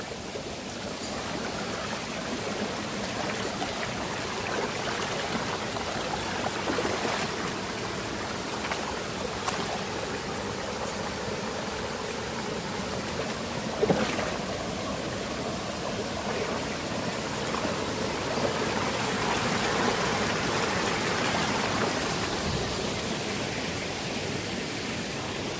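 Steady broadband rush of a river at a hiking crossing near Agua Salada and Poza Azul in Morelos, continuous and close throughout with no talk.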